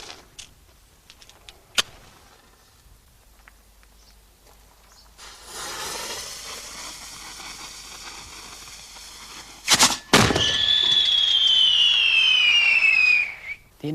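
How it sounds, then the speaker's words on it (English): A firework mortar launching a shell: a few sharp pops, then a rising hiss and a loud bang followed by a long whistling rush that fades into a brief burst at the end. "This is actually a firework mortar, and it forces out this cylindrical shell"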